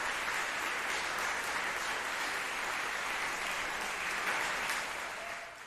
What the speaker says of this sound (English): you got a bunch of white people clapping